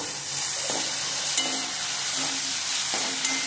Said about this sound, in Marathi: छान परतून भाजून घेऊया त्याच्यामध्ये कांदा